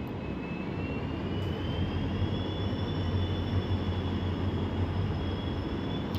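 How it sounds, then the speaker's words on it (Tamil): WDP4 diesel locomotive hauling a Workmen Special express, rolling in on the loop line toward the first platform's main line near Madurai; a loud, steady engine rumble with a thin, slowly rising whine runs continuously, with no voices. "லூப் லைன் வழியாக ட்ரெயின் இன்ஜின் வந்து இப்போ ஃபஸ்ட் பிளாட்ஃபார்ம் மெயின் லைனுக்கு வருது"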